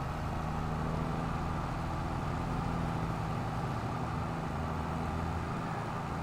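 A tractor engine runs steadily in Farming Simulator 22, a continuous low droning hum at constant level with no talk over it.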